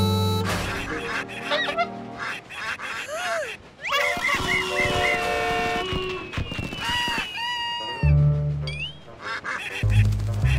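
Cartoon ducks quack repeatedly in lively, overlapping bursts, loud and close, with music-like tones and brief squeaks mixed among the calls.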